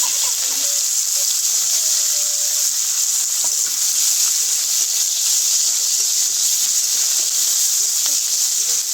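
Chopped onion sizzles in hot oil already holding whole garam masala and bay leaves, cooked for a Bengali young-jackfruit biryani; a steady, even hiss of frying runs throughout with no talking.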